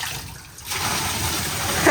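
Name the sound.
water dumped from a garbage can into an AC unit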